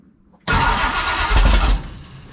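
A big block Ford V8 fires up for the first time on open headers with no mufflers, a sudden loud crack into a rough, raw idle with one brief throttle surge, close and with no talk.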